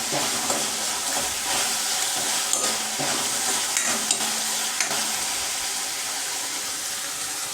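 Garlic frying in a pan for Maharashtrian methi bhaji, a dense, bright, continuous sizzle with a few soft stirring knocks, close and steady, no talking.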